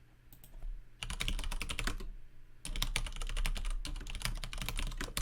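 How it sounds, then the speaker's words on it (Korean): Keys clatter on a computer keyboard as a prompt is typed in rapid bursts, a brief pause splitting two stretches of close, steady tapping with no talk. "그리고 기본적인 프롬프트를 입력을 해보겠습니다."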